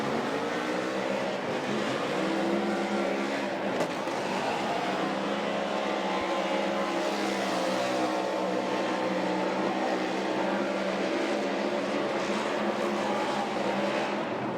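Ford Mustang RTR drift car driven by Chelsea DeNofa in a 2021 Formula Drift Pro Championship run at Lake Erie Speedway, its engine a loud, continuous roar that swells and dips in pitch as it revs, with no talking.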